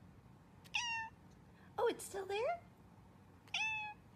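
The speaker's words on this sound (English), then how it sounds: "what happened to your meow?" A pet cat meows three times indoors, short clear mews spaced about a second apart and close to the microphone, with a person speaking quietly between them.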